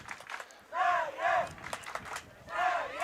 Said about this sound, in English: We have a big cheering section here for the Swedish crowd. Yes, they're very loud.